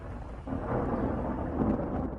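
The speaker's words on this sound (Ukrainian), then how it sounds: "гримить грім" Thunder rumbles low and heavy for about two seconds with no one speaking, a loud, continuous roll that swells in the middle and fades at the end.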